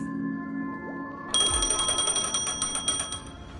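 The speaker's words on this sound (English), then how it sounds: "A phone." Trilling electronic phone ring in the video game Honkai: Star Rail, a rapid repeating bell-like chime that starts abruptly and rings steadily over faint background music.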